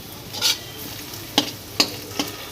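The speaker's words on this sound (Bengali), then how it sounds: "আমি যে আগে থেকে মাংসটা মেখে রেখেছি এর মধ্যে দিয়ে দেবো" Marinated chicken goes into deep-browned fried onions in a pan for a Bengali chicken curry, giving a steady close sizzle broken by several sharp stirring scrapes and clinks, with no one talking.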